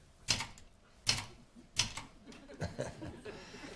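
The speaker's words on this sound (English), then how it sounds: "I used to have to laboriously type out my sermons on an old typewriter like this." Old manual typewriter being typed on: three loud clattering bursts of keystrokes, each ending with a sharp bell-like ding, followed by a softer run of key taps, with faint laughter in the background.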